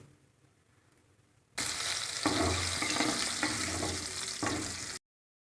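Bay leaf, black pepper and cinnamon hitting hot oil in a kadhai for dhaba-style matar paneer, a sudden loud, steady sizzle that holds for a few seconds and then cuts off abruptly, no voices.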